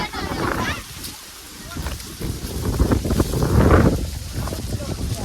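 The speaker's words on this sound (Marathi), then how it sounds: "खतरनाक असं वारं सुटलंय आणि सगळी या वाऱ्यात जेवाय बसले" Strong wind buffets the microphone in heavy low rumbling gusts, with voices of people eating outdoors talking underneath.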